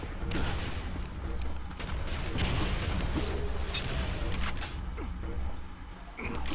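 Rapid weapon fire in the arena shooter Quake 4, sharp repeated shots and booms in dense bursts, with a commentator talking over the fast-paced game audio.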